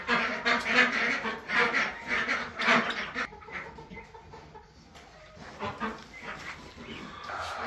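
Ducks quack loudly and repeatedly in a full barn crowded with other farm animals, the noisy calls denser in the first few seconds, then thinning to scattered quacks and clucks.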